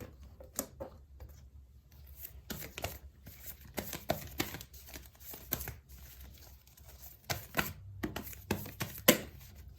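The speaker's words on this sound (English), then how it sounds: "A few more shuffles." Tarot cards being shuffled by hand, a string of soft crinkling riffles and brisk card slaps in irregular bursts, close and fairly quiet, with no voices.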